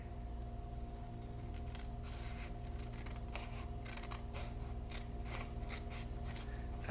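Scissors cutting card for a handmade greeting card, a close run of crisp, rhythmic snipping and crunching strokes repeating over a steady low hum, quiet overall.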